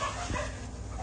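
Dog yips and barks in a short burst over a busy room, close and fairly loud, with no clear speech.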